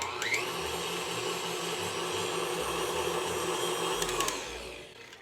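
An electric mixer whips buttercream frosting with a steady, loud motor whir that runs for several seconds, then winds down and stops near the end.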